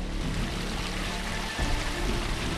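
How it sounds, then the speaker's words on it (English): Falling water near a waterfall in No Thoroughfare Canyon makes a steady broadband rush, continuous and even throughout, with no voices. "the faint sound of falling water"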